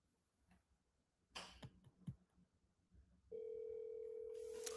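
A few scattered clicks and taps, then a steady electronic telephone ringback tone starts and holds, heard faintly over a quiet line.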